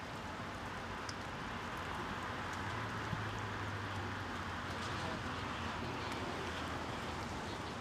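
Rain at the Monza race circuit after the 2019 Formula Renault Eurocup race: a faint, even hiss of falling rain with light wind, continuous and distant-sounding, with no speech.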